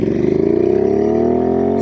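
A loud Royal Enfield Interceptor 650 motorcycle engine with an aftermarket exhaust revs up steadily, its throaty, pulsing exhaust note rising in pitch without a break.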